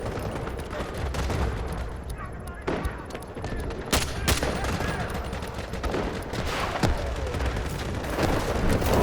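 Gunfire in the PS5 multiplayer shooter Delta Force, with rapid bursts of shots and sharp cracks punctuating dense battlefield noise. Loud, close impacts stand out over a continuous rumble of distant fire and explosions.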